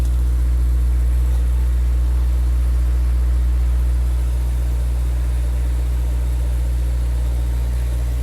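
A car engine idles with a steady low rumble and vibration, loud and close, continuous throughout with no talk.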